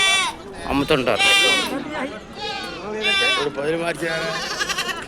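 Goats bleat repeatedly at an outdoor goat market near a statue, several loud nearby calls rising over constant crowd chatter and someone talking throughout.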